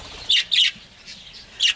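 A bird squawks three times in short, loud bursts while its vent feathers are trimmed, the calls sharp and close with quiet gaps between.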